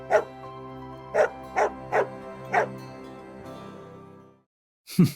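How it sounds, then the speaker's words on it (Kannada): A dog barks loudly five times in short bursts over a steady musical backdrop, followed by one more sharp bark after a brief silence. "ಬಾಲ ಆಡಿಸ್ತಾ ಜೋರಾಗಿ ಬೊಗಳ್ತಾನೆ"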